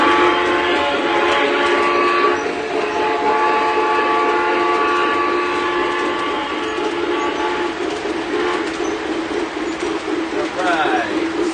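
A model train runs on a Fast Track layout as it climbs toward a mountain section, giving a steady, close rolling rumble with sustained horn-like tones sounding over it throughout.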